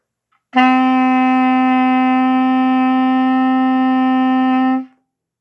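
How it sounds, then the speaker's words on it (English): A 5th grade band wind instrument sustains a single steady written D for about four seconds, clean and loud with rich even harmonics, starting abruptly and tapering off at the end. "So a D is thumb, 1 and 2. It should sound like this."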